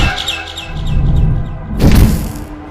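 Bird chirps ring out in the horror video game Garten of BanBan 6, a quick run of high tweets followed by a louder thud-like burst against a steady ambient background.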